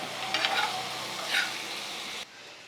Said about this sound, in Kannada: ಫ್ರೈ ಮಾಡ್ಕೊಳ್ಳೋಕ್ಕೆ ಪನ್ನೀರ್ ಹಾಕ್ತಾಯಿದ್ದೀನಿ ಕಮ್ಮಿ ಫ್ಲೇಮಲ್ಲಿ ಫ್ರೈ ಮಾಡ್ಕೋಬೇಕು ಇದನ್ನು